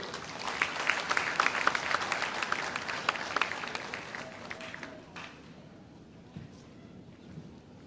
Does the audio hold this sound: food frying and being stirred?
no